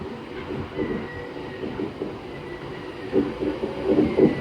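A train rolls through Carlisle station on the West Coast Main Line, a low rumble of wheels and carriages with faint squeals rising toward the end, and no talk.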